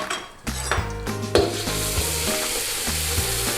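Minced garlic and a pinch of methi sizzle in hot oil for a British Indian restaurant-style chicken rogan josh, with steady frying hiss, a stirring scrape and faint utensil taps close by.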